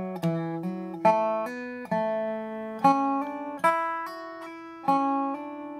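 A dobro plays the opening two phrases of the fiddle tune Red Haired Boy, bright plucked notes with a resonant metallic ring in a lively, bouncy rhythm, heard alone and close.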